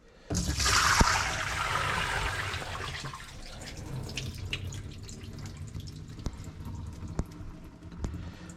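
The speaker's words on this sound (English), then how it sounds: "So what we're gonna do is drain the water out." Soaking water drains out of a corned beef container, starting with a gush and splash, then settling into a quieter trickle with scattered drips and small clicks.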